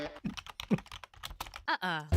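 Computer keyboard typing in a radio advertisement: quick, irregular clicking keystrokes up close, ending with a short voiced sound.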